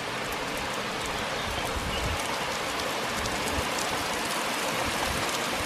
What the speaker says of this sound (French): quand il pleut ici, il fait pas semblant